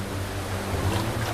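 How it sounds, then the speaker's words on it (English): Gushing waterfall upstream in a deep rain forest, a steady dense roar of rushing water holding at an even level throughout with a low rumbling undertone and no voices. "The gushing waterfall further upstream seems insurmountable."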